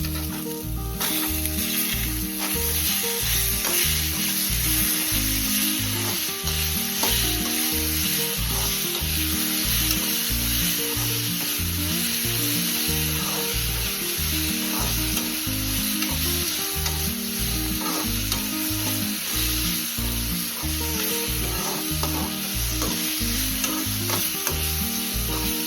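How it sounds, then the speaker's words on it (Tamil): Onions and tomatoes sauté in a pan for an egg curry, a loud, steady sizzle with a rhythmic pattern of stirring strokes throughout, and no voices. "இப்போ தக்காளியும் போட்டு நல்லா வதக்கி எடுத்துடலாம்"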